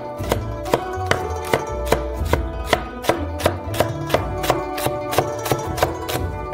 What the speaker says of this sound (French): Et hop, on coupe comme ça en petits morceaux.